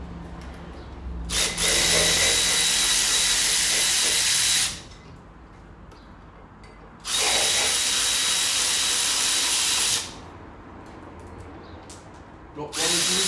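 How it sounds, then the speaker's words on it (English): An electric ratchet runs on a Jeep Cherokee 3.7 V6, giving three loud, close bursts of high whirring, each lasting several seconds with short pauses between. "Brilliant, these electric ratchets,"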